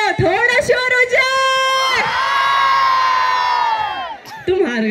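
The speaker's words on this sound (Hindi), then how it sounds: "अल्मोड़ा वाले थोड़ा शोर हो जाए" A festival crowd at the Almora Kumaon Mahotsav 2024 cheers and shouts, with loud, sustained whoops and bellowing voices rising together close by.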